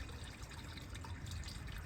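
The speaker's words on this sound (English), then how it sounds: "he turned on the hot water, we can hear it" Hot water running from a household tap, a steady, fairly quiet rushing flow with low rumble that stays constant throughout, no voices over it.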